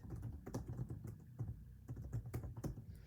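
Someone types on a computer keyboard nearby, a quick, irregular patter of soft key clicks with no voices.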